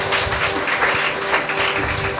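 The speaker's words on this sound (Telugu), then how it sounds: "గట్టిగా చప్పట్లు కొట్టు." A church congregation claps loudly in a dense, continuous burst of applause that fills the whole moment, with no speech over it.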